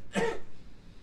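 One short, rough cough bursts out close by, brief and throaty, followed by quiet room noise.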